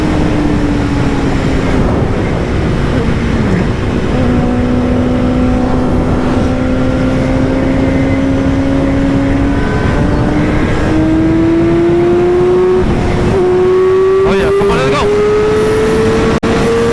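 A car engine hums steadily while driving at partial throttle on a road, its drone slowly rising in pitch as speed builds, loud and continuous, with a brief bump or rattle near the end.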